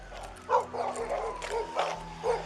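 A dog barks several times during a tense police confrontation at a house, short sharp yelps spaced across a couple of seconds over a low steady hum, moderately close.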